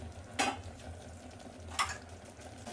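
Mushroom biryani masala sizzles in oil over a medium flame, a steady soft frying hiss broken by two brief stirring scrapes, close and moderately quiet.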